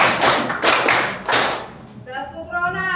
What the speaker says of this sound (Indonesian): kita kasih tepuk Garuda